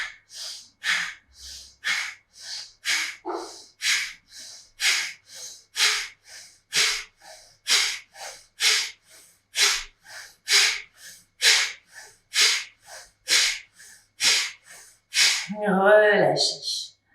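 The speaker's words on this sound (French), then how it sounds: "On se prépare pour Bhastrika." Bhastrika pranayama bellows breathing, with about twenty forceful, evenly spaced breaths pumping in a steady rhythm, close and loud, ending in a longer deep breath with a voice briefly sounding.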